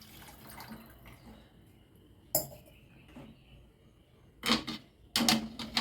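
Water splashes into a pan in a few short bursts while making Yippee egg noodles, with light clinks of metal and quiet kitchen background in between.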